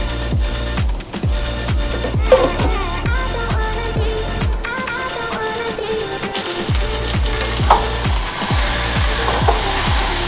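Fish-head cabbage ghonto being stirred and fried in a wok, with steady sizzling and a regular run of scraping spatula strokes against the pan throughout, close and fairly loud.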